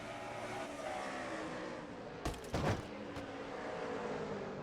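Toyota and Chevrolet race trucks dueling on the Indianapolis short track in a racing video game, a continuous engine drone with a brief louder burst partway through, no talking.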